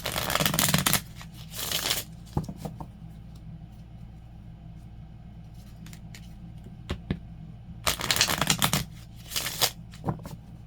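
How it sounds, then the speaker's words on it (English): Bursts of tarot cards being shuffled, crisp riffling flurries at the start and again near the end, with quieter handling and taps in between. "I'm hearing one more shuffle and then cut"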